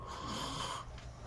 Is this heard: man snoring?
yes